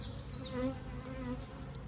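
Honeybees buzz close by at a backyard hive, a soft, steady, wavering drone from several insects circling together without any voices.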